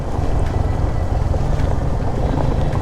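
A Suzuki Gixxer 250 motorcycle engine-braking in second gear down a rough hill road gives a steady, close, low engine drone buried in heavy wind rush, with no talking.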